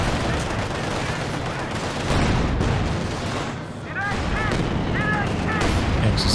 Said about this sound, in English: Kills on that first walking Stuka barrage.